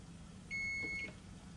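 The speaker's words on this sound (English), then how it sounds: "The timer is about to go off." A kitchen timer sounds one steady electronic beep of about half a second, clear against a quiet room, while fried mush cooks in a pan.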